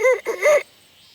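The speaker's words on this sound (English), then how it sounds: "the red jungle fowl sings crows at a higher pitch" A red jungle fowl, the wild ancestor of domestic chickens, crows in a short, clear, high-pitched burst of a few syllables, the last one clipped short, followed by quiet.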